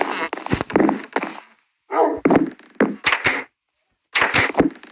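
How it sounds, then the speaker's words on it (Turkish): A dog barks in a series of sharp, close bursts separated by short pauses, loud against a quiet background. "Bu da benim köpeğim"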